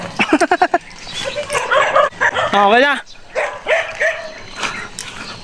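A dog barks in a quick burst of yips and bow-wows up close, followed by whimpering and whining, with a person speaking briefly over it.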